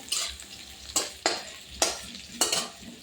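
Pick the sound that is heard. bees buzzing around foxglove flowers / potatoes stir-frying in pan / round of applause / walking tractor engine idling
potatoes stir-frying in pan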